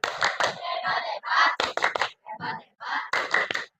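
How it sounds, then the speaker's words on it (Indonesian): Classroom of children performing a rhythmic clap routine, bursts of unison clapping and slapping in short patterned groups separated by brief pauses, close and lively. "Tepuk hebat untuk maung galau dan cupang keren"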